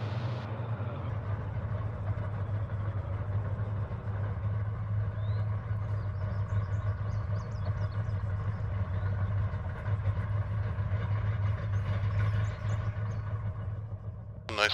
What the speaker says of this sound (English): engine sounds east.